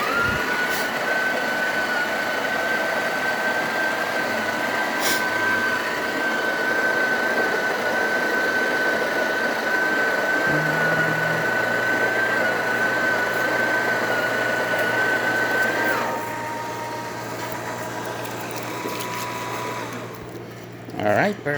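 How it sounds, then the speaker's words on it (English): A Breville Oracle coffee machine grinding beans at setting 17 gives a steady, close mechanical whir with a constant high tone. A deeper motor hum joins partway through, then the grinding cuts off and the hum tapers away near the end. "we're grinding on the 17 setting of the grinder"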